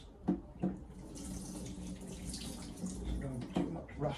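A Damascus cleaver is rinsed under a running tap, the water splashing steadily against the blade and sink, with a few sharper splashes and clatters near the start and end.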